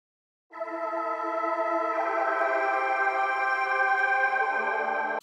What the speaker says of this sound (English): the pad gives that mystic atmosphere, and it was made using two sample oscillators